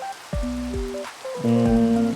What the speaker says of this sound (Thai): เธอทำให้ฝนหยุดตกได้ไหม